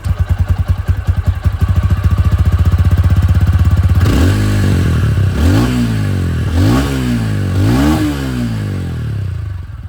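A motorcycle engine idles with a rapid, close, loud exhaust throb, then is blipped through four sharp revs that each rise and fall in pitch, with no talking over it.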